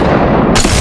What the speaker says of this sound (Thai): กำลังโดนยิง